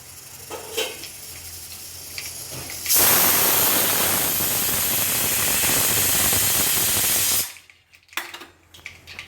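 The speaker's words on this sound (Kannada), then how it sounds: "तड़का स्टार्ट ಆಗ್ತೈತಿ ಚಟ್ ಚಟ್ ಆವಾಜ್ ಬರಕತ್ತು" Tadka tempering for poha spluttering in hot oil, a loud, dense crackling hiss that bursts in abruptly, holds steady for several seconds close by, then cuts off sharply.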